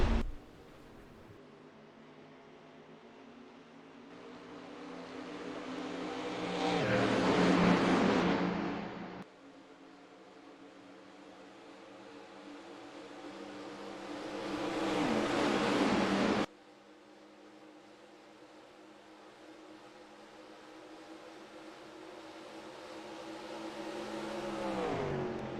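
Race cars restarting at Talladega in NR2003, engine whine swelling in repeated waves as cars pass and accelerate, building then cutting off abruptly, steady and fairly faint with no talk.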